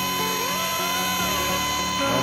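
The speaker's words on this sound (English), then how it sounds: "A helicopter is really something that is kind of a hobby level product." A 2.4G remote control RC helicopter with altitude hold in flight: a steady high-pitched motor and rotor whine with a shifting tone, continuous and fairly close.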